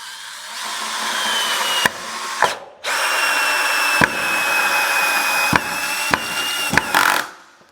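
A The Black Tools cordless screwdriver drives a screw through wood in a loud, steady whirring run, broken by several sharp clicks and a brief pause, then winding down at the end; no talk.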